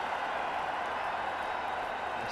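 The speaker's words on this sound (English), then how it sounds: "The crowd are right in amongst it now." Steady, dense roar of a cricket stadium crowd cheering at a T20 match between India Legends and Sri Lanka Legends, an even wall of noise holding at the same level throughout with no clear breaks.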